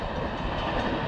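A train runs along railway tracks, giving a loud, steady rumble with a constant roar that fills the whole short stretch with no pauses.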